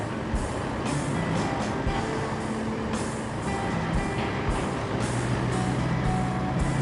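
Heavy cargo truck in a video game rolling slowly and steadily, a continuous low engine rumble with rattling and faint intermittent beeps, no talk.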